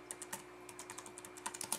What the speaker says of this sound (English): just type